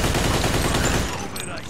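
Rapid automatic gunfire in the Mafia II video game on Xbox 360, a dense loud burst of shots lasting about a second before cutting off to quieter game ambience.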